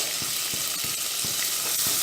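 Masala for prawn biryani sizzles steadily in hot oil as mint leaves, fresh coriander and tomato are stirred in, with soft, regular scraping strokes cutting through the constant close frying hiss.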